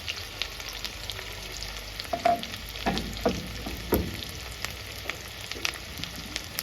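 Chopped onions and green chillies fry in a hot pan, a soft steady sizzle broken by several sharper scrapes and clinks of stirring, close and moderately loud.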